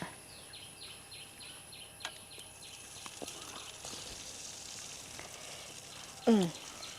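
Honey candy (thaen mittai) batter frying in boiling oil, giving a steady close sizzle and bubbling throughout, with a sharper hiss as more batter drops in near the end.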